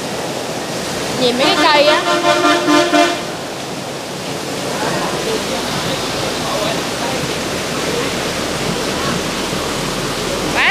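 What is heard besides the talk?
strong storm wind blowing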